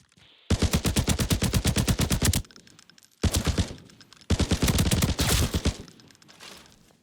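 Automatic weapon fire from a new gun in the shooter game Arena Breakout Infinite: three loud, close bursts of rapid, evenly spaced shots, the last one long, separated by short pauses with faint mechanical ambience.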